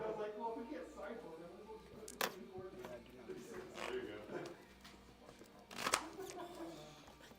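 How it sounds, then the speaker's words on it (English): A deck of playing cards is shuffled at a tabletop draft of a Star Wars Unlimited card game, with a few quick riffling bursts, fairly faint, under people chatting nearby. "That's shuffle."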